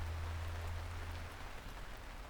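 Steady rain falls across a city at night, a dense even patter filling the scene alone with no voices, a low hum underneath in the first half.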